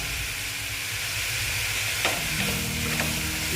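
Green chilies and grated radish fry in a pan for a Bengali mulor ghonto, giving a loud continuous sizzle and hiss with a few stirring scrapes over it.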